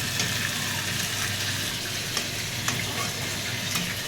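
Fish sizzles steadily as it fries in a pan in a home kitchen, a dense, continuous crackle with a few sharper pops and no talking.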